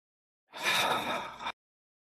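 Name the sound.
breathing in, taking a breath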